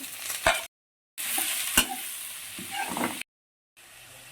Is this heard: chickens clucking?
no